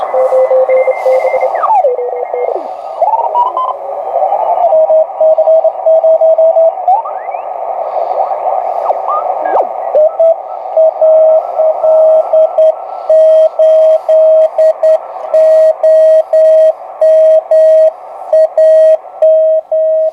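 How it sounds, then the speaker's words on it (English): Morse code CW signals on the 40-meter amateur band come through a Sony CRF-320 shortwave receiver. Gliding tuning whistles give way to a steady, rapidly keyed tone of clean on-off beeps, loud and alone. "Definitely be a good night for CW on 40 meters."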